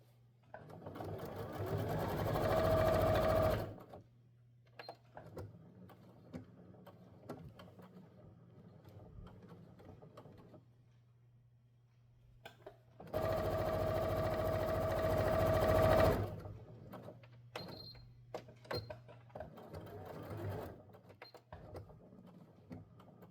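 Sewing machine stitching a corset lining in two loud bursts of steady motor whirring a few seconds long, separated by a quieter stretch with a low hum and small handling noises.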